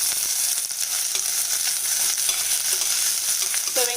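Chopped onions fry with slit green chillies in a pan, giving a steady, close, crackling sizzle that runs unbroken throughout, with no voices.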